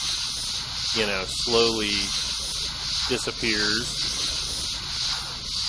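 Firefighter hosing water onto a blaze in the game Flashing Lights: a steady broad hissing spray runs throughout beneath a voice talking.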